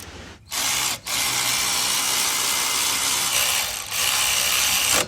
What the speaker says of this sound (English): Now we're gonna go ahead and tighten our upper strut nuts.